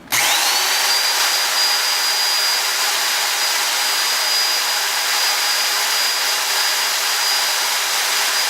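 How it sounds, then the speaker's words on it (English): A power drill with a 7/32 bit bores through a plastic hydroponic container near a port, giving a loud, steady whine that holds unbroken for about eight seconds, with no voices. "used a 7/32 size drill bit to make a nice tight fit for this tube"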